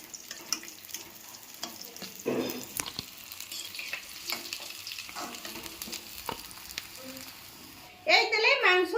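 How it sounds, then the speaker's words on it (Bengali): Potatoes for a chicken meat curry sizzling in hot mustard oil, a steady crackle with occasional stirring clatter, ending in a louder burst of spitting as more goes into the pan. "এই তেলে মাংসর আলুগুলোকে ভেজে নিচ্ছি।"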